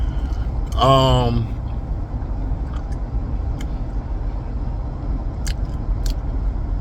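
Steady low rumble of a car being driven, a continuous road and engine drone throughout, with a brief voice-like sound near the start riding over it.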